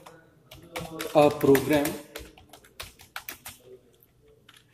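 Rapid, uneven bursts of key clicks on a laptop keyboard as a line of program code is typed, close and fairly quiet, with someone speaking over parts of it.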